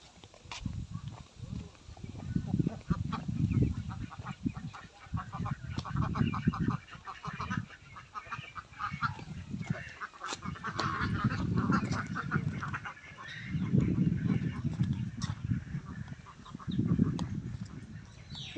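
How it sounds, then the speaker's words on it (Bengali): Ducks and geese in a rural Bangladeshi char village quack and honk in a noisy flock, overlapping calls swelling and fading in waves over a breezy outdoor background with no clear talk. "আমাদেরকে হাঁস দেখাই।"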